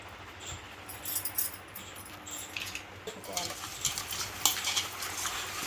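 Ground green chilli, mint, coriander and garam masala being stirred into chicken biryani made with basmati rice, with quiet repeated scraping and clinking of a spoon against the pot, close up, fading in and out.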